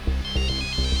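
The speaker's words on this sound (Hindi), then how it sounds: "बेटा, पूनम के पापा का फोन है।" A telephone ringtone rings loud and close, a rapid pulsing tone repeating in quick bursts across the short span with no talking over it.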